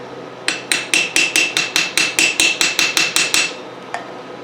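A hammer taps a socket on the cylinder head of a 1971 Honda CB175, fourteen sharp metallic strikes in an even, quick rhythm, followed after a short pause by one lighter tap, close and loud with no talking.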